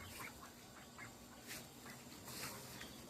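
Ducks quacking faintly in an apartment garden among potted blackberries, with a few soft, scattered calls over steady low background noise.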